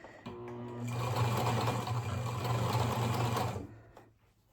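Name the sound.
sewing machine stitching a scrunchie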